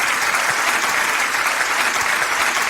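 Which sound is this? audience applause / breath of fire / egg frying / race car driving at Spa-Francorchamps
audience applause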